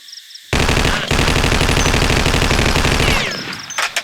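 A Thompson submachine gun rattles off one long, loud, close automatic burst in the Vietnam War shooter Vietcong, sustained for about two and a half seconds after a quiet start and trailing off into echoing decay.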